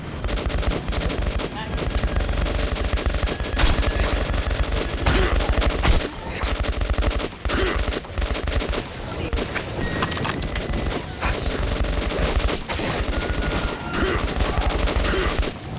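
Dense, continuous gunfire from the video game Metro, with rapid bursts and sharp shots packed over a busy combat din. The shooting stays loud throughout, with a few voices mixed in.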